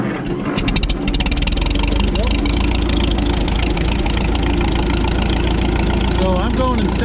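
Minneapolis-Moline R tractor engine already warmed up, running with a steady, loud, close mechanical idle throughout, the start lost in the initial moment, while someone talks over it.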